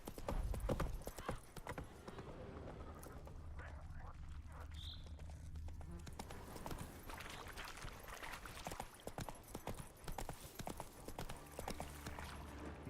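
Geralt's horse Roach from The Witcher 3 galloping through Velen, with rapid rhythmic hoofbeats that run steadily and fairly loud for the whole stretch, plus a brief whinny.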